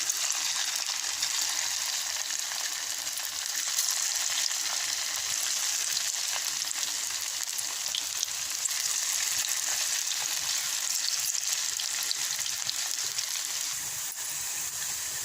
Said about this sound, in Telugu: ఆయిల్ కాగింది. ఇప్పుడు పకోడీ వేసుకుందాం.